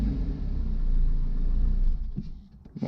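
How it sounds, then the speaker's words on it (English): The engine of a Chevy Cavalier project car runs at idle, a low steady rumble that swells slightly then drops away near the end, with a couple of faint knocks. "motor sound good though"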